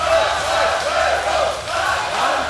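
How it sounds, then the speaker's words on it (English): Crowd cheering and shouting at the European Championship seniors right arm wrestling final, loud overlapping voices rising and falling in waves throughout. "You see both athletes having the support of the crowd."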